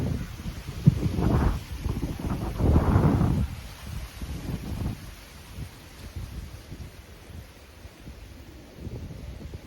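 Outdoor wind gusting and leaves rustling, soft swells of breezy noise rising and falling with a low rumble, moderately faint and continuous, with no voices.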